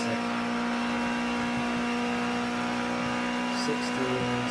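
A Ginetta G40 Junior race car in Project Cars 2 runs at full throttle, giving a steady, droning engine whine that holds at an even loudness throughout.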